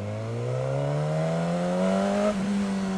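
2015 Suzuki GSX S1000 ABS motorcycle engine revving, pitch climbing smoothly through the gear before a sudden drop at a shift, then settling, loud and close.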